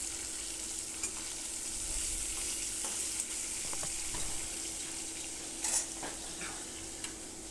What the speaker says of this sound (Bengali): বাকি মাছগুলোও ভেজে নেব এভাবে